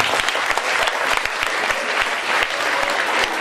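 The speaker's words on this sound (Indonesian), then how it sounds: "silakan tepuk tangan untuk ada yang di depan" A crowd applauding, dense rapid clapping close by, steady for a few seconds without pause.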